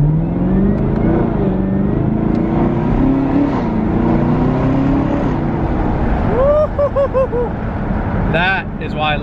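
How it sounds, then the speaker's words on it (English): A 2018 Camaro ZL1 revs hard on downshifts, its engine climbing and falling in loud, close sweeps, with sharp rising blips toward the end and a voice talking over the first half. "I don't know if you guys can hear those downshifts, but here, watch."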